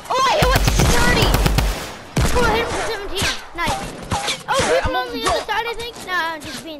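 Gunfire in the video game Fortnite, a loud rapid burst of automatic fire in the opening seconds, then scattered shots, with excited players shouting over much of the action.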